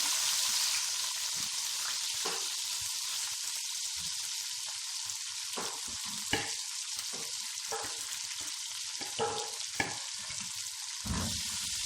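Vegetables for an eggplant and potato dish fry in a pan with a steady, close hiss of sizzling oil, broken by occasional scrapes and taps as the pan is stirred; no voices.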